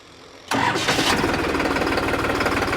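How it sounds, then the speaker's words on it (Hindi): A New Holland 3630 Special Edition tractor's large diesel engine cranks and roars to life abruptly, then settles into a loud, steady chugging idle close by. "दोस्तों ट्रैक्टर को स्टार्ट करके इसकी आवाज़ भी आपको सुनवाता हूँ"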